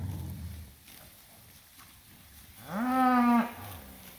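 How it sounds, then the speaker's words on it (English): A single bovine moo rises clearly during a cattle mob move on a farm pasture, moderately close, against quiet outdoor ambience. "There's quite a few cows staying on this side now."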